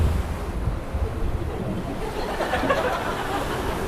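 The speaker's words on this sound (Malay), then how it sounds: "macam mana air laut ni tak berhenti menghempas pantai" Continuous sea surf breaks on a beach at night as a loud, unbroken wash of noise, with heavy wind buffeting the microphone and no speech.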